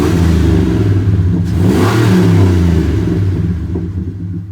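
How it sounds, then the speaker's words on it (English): A fully loaded truck, a recovered stolen Cummins, revs hard through its aftermarket exhaust, a loud, close, deep rumbling roar that swells and eases over a few seconds with no talking. "Not a bad little exhaust for this thing."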